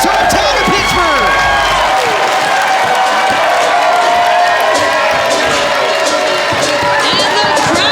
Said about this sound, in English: the crowd here at Mr. Smalls showing their appreciation for an incredible match between two of the best